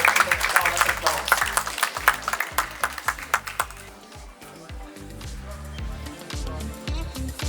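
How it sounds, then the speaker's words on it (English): Audience applause as a session moderator takes the stage at a climate and population conference, brisk crowd clapping for about four seconds that then thins into scattered claps and hall noise. "Please welcome you with a round of applause."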